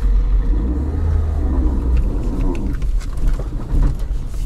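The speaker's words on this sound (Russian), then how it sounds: "Автомобиль аж заглох." A Lada Niva fitted with locking differentials labours up a hill in first gear. Its engine gives a deep, close rumble that falters and dies as it stalls, and no one speaks.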